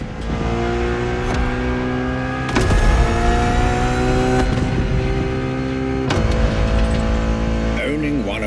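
A Ferrari Enzo supercar engine revs loud and close in a racing game, the steady harmonic drone climbing through gear changes, with sharp shifts near three, four and a half and six seconds.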